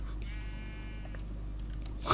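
A single drawn-out sheep bleat from Minecraft, electronic and game-like, over a steady low hum, followed by a few faint clicks.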